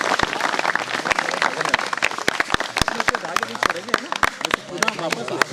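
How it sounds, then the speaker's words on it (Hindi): An outdoor group near Gaumukh Mandir in the Sillewani Range, South Chhindwara, claps loudly and somewhat unevenly, with distinct sharp claps and overlapping voices chattering throughout. "चलिए एक बार जोरदार तालियां बजा दो इन लोगों के लिए"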